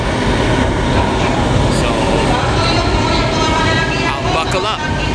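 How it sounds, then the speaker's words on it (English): An LRT-1 light rail train arrives at Asia World station with a loud, steady roar and rumble of wheels and motors that fills the whole stretch, while someone speaks briefly over it. "My train is arriving"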